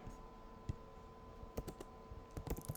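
Computer keyboard keys clicked while typing code, a few sparse taps early and then short bursts of quick clicks, close and fairly quiet against faint room hum.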